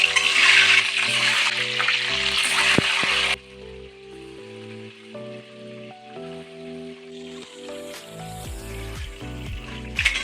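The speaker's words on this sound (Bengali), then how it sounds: "এখন আমি এই তেলের মধ্যে সিদ্ধ করে রাখা ডিমগুলো দিয়ে দেবো" Hard-boiled eggs drop into hot mustard oil with salt, a loud sizzling hiss that lasts about three seconds, then cuts out abruptly, leaving quieter tonal background music.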